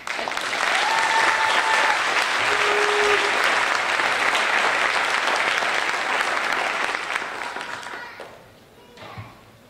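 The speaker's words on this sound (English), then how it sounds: "Let's hear another round of applause for these musicians' amazing work and progress." Spring concert band audience applauding the musicians, dense sustained clapping from a large crowd that holds steady for about eight seconds, then fades to scattered claps.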